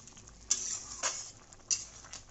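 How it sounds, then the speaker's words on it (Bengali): Stirring jhinge aloo posto, a ridge gourd and potato curry with poppy seed paste and turmeric, in a pan: a few soft scraping strokes of a spoon over a quiet simmer, no voices. "দিয়ে এটাকে একটু নাড়িয়ে দিচ্ছি।"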